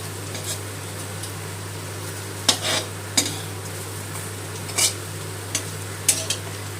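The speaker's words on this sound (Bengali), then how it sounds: "ভালো করে একটু লাল করে ভেজে নিবি, তাহলে বড়াগুলো বেশ মচমচে হবে।" Masoor dal fritters frying in hot oil give a steady sizzle, broken by a few sharp scrapes and clinks from a utensil stirring and turning them in the pan, over a constant low background hum.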